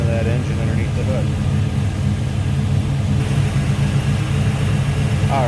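A 1973 Chevrolet Camaro Z28 Type LT V8 idles under an open hood, its steady low rumble holding evenly throughout, with faint voice sounds at moments.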